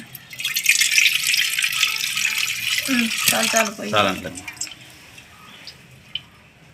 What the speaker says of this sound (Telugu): ఏ పాత్రలు అయితే మనం కాగబెట్టుకున్నామో అందులో కొద్దిగా వాటర్ పోసుకొని